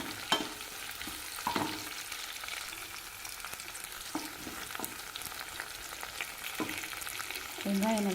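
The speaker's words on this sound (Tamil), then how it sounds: "வெங்காயம் நல்லா வதங்கிடுச்சுங்க" Onion, curry leaves and garlic sauté in hot oil in a pan for a Tamil kuzhambu, a steady close sizzle broken by occasional stirring clinks and scrapes, with no talk.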